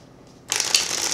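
A deck of playing cards being shuffled: after a brief quiet, a dense, crisp riffle of rapid flicking clicks starts and continues close to the microphone.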